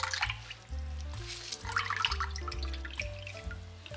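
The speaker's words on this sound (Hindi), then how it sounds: "ये देखिए अभी भी इसका पानी निकल रहा है।" Water drips and trickles from freshly squeezed chhena curd being pressed by hand for rasmalai. Soft, close patters and small splashes form an uneven rhythm, with no talking.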